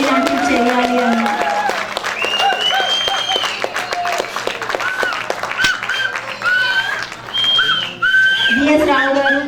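Audience applause at a Telugu association Ugadi celebration in Indonesia as committee members receive mementos, steady crowd clapping running throughout, mixed with music and voices over a loudspeaker.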